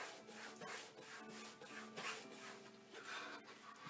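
A wooden mantle clock kit piece is rubbed down by hand during burnishing, giving a close, quiet series of dry scraping strokes with no talking.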